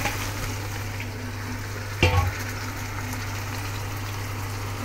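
Pork trotters for paya sizzle steadily in a hot pot, a constant frying hiss with one sharp clatter of the spoon against the pot midway, no talking.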